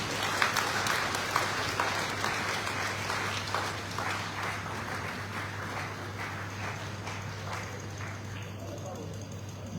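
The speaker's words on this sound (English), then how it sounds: "Please, let us thank Baba once again with a big round of applause." Sustained round of applause from a summit audience in Lagos, a steady wash of many hands clapping at moderate distance over a low hum, slowly easing toward the end.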